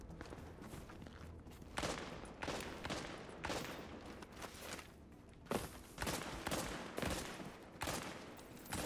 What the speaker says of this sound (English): Are you shooting someone?